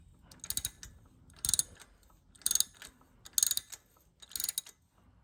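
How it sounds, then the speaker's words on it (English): A ratchet wrench fitted with a 5/8 spark plug socket works a spark plug out of a Harley-Davidson cylinder. Five short bursts of rapid clicking are heard up close, separated by brief pauses. "So use a 5/8 spark plug socket. Stick that there like that. Go ahead and wrench that out."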